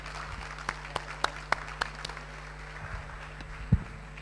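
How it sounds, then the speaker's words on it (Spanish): A few scattered, sparse claps from a small audience at a video-game industry conference session in Spain, spread unevenly over a few seconds before fading into quiet room tone. "Un aplauso para él."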